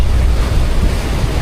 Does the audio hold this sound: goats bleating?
no